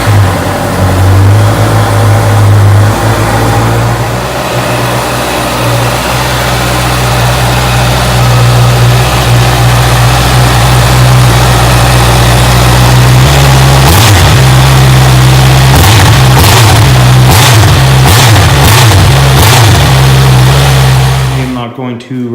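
A Honda CB650F motorcycle on a cold day cranks and catches, then settles into a loud, close idle before a string of sharp throttle blips rises and falls near the end.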